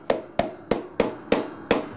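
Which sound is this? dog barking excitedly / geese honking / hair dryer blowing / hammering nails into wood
hammering nails into wood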